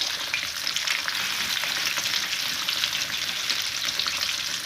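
Onion browning in a frying pan, a steady close bright sizzle that runs without pause.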